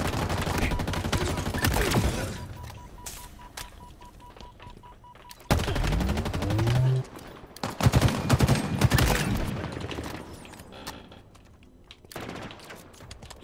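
A slow-firing gun in a Halo Infinite multiplayer match, spaced bursts of heavy shots separated by pauses, with clicks and other game sounds between.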